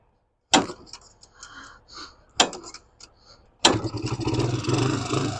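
Small engine, parked for eight years, sputtering and failing to idle with a clogged carburetor circuit and rusty gas tank: two loud bursts of cranking and stumbling, then a rougher, sustained run that keeps faltering.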